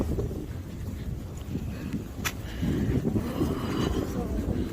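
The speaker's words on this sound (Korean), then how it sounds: "바람이 꽤 부네요. 바람 불어서 지금 좀 따갑거든요." Strong wind gusting outdoors at night on a neighbourhood walk, a steady rushing buffet across the microphone that grows louder toward the end, with faint voices underneath.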